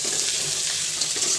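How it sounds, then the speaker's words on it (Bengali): Water pours into egg curry in a hot cooking pan, making a continuous close, rushing hiss with a bubbling sizzle that stays steady throughout. "জলটা দিয়ে দিলাম।"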